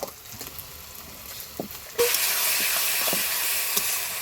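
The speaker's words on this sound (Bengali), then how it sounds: "ভালো করে এদেরকে জ্বালিয়ে নিব" Powdered spices, turmeric and chili, hit hot oil in a wok and burst into a loud, steady sizzle halfway through, after quieter kitchen clatter.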